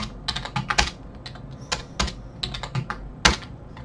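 Computer keyboard typing in irregular bursts of close, crisp key clicks with short pauses, moderately loud and with no voices.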